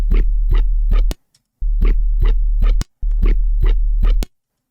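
Heavily compressed synth bass through a multiband compressor plays in three repeated bursts, each a steady low throb with four rhythmic plucked accents and a sharp click at the end.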